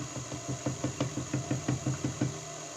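A KitchenAid stand mixer kneads sourdough as flour is added, giving a steady rhythmic thumping of about two beats per second over a constant motor whine, close and moderately quiet, with no talking.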